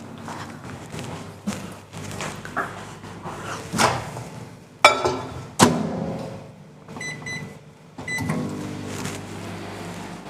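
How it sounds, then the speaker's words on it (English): Kitchen microwave oven heating a bowl of chocolate for about twenty seconds, a low hum under a series of loud clunks and thuds from the door and handling, ending with electronic beeps. "just putting it in the microwave for 20 seconds"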